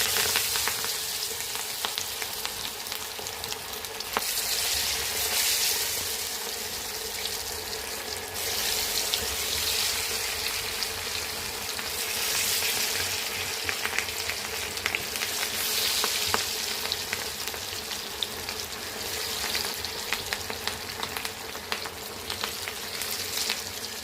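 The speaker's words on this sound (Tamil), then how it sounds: "எண்ணெய் நல்லா ஹீட் ஆயிடுச்சு. நம்ம வந்து இந்த சிக்கன் எடுத்து வச்சுருந்தோம்ல, அது ஒன்றா நம்ம போட்டுடலாங்க" Marinated chicken for chicken 65 fries in hot oil with a dense, continuous crackling sizzle that rises and falls in waves, close and steady for the whole stretch, with no voices.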